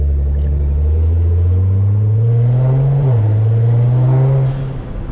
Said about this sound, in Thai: รถเสียงมันแสบหูเหลือเกิน